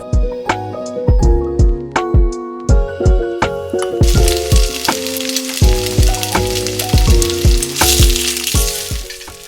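Tofu squares fry in a very hot pan, sharp spattering pops and crackles bursting in quick repeated bursts over a continuous sizzle that thickens partway through.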